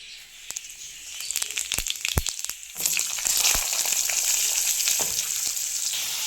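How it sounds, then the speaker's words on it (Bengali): Potatoes hit hot oil with cumin seeds in a wok, a burst of clattering taps and scrapes followed by a loud, sustained hissing sizzle close up, with no voices. "এবার কড়াইতে জিরা ফোড়ন দিয়ে আলুগুলো ভেজে নেব।"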